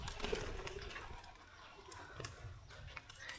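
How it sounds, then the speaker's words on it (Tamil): Pigeons near a church, a soft coo and light fluttering faintly heard over outdoor background noise. "புறாக்கள் எல்லாம் பறக்குது."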